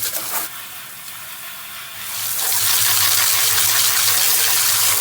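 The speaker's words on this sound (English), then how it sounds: "Just hose off the rest of the DE and it'll go down into the backwash" Garden hose spraying water over DE pool filter grids, starting as a softer trickle and then building into a loud, steady hissing gush up close.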